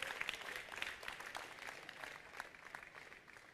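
Church congregation clapping for Jesus at a TB Joshua healing service, a quiet, distant wash of many hands with scattered sharper claps and faint voices underneath.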